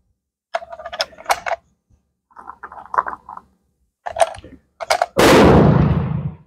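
A single loud, sharp gunshot from a No.5 Mk1 Enfield jungle carbine rifle, fired at a shooting range, rings out near the end and decays slowly, preceded by several short bursts of mechanical clatter and handling.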